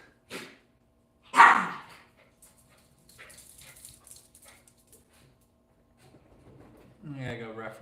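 Dogs in a home give a few short, sharp barks and yips with pauses between them, and one whines at the end. Someone speaks briefly in the background.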